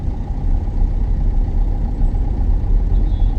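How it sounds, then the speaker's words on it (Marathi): Dense, heavy road traffic on Khandala Ghat rumbles continuously with a deep, loud engine drone of trucks and cars, unbroken and close. "लय खतरनाक ट्रॅफिक आहे."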